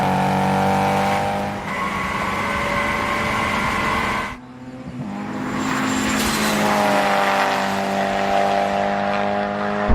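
A Honda S2000 engine revs hard through the gears in a half-mile acceleration race, climbing steadily, cutting out briefly at a shift, then screaming upward again with loud, close, sustained intake and exhaust howl.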